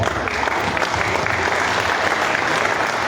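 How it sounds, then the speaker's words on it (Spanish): Audience applause welcoming a retired historian from the Universidad Michoacana to a lecture, steady and dense clapping filling the room for about three seconds with no voices over it. "Recibámosla con un fuerte aplauso."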